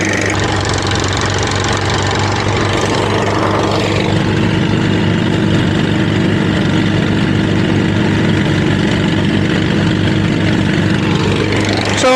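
A noisy rice threshing machine runs during a palay harvest, giving a loud continuous engine drone with a rough mechanical rattle, heard up close throughout without a break.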